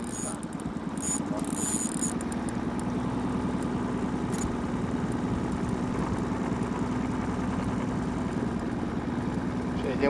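A low, steady boat motor idles continuously with a constant rumble during catfish trolling, joined by a few faint clicks and knocks near the start.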